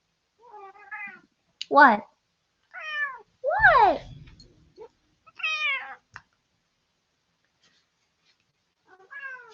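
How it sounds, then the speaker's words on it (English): A house cat on an indoor coffee table meows several times with rising and falling cries, fairly close. A person speaks briefly between the meows. "the cat is on the coffee table"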